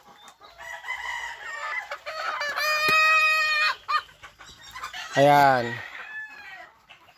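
Breeding hens, a mix of Sweater and Gilmore stock, clucking and squawking close by in a farm pen, a run of loud calls and one sharp crow-like cry, with a brief spoken word.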